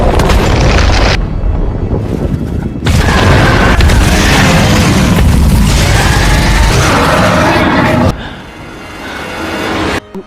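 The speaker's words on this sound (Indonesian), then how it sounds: "Menggunakan roket dan juga alat peledak, sama sekali tidak merubah keadaan" Loud, dense booming explosions from rockets and explosives in a monster-hunting action film battle, sustained rumbling blasts with brief gaps, a quieter stretch near the end.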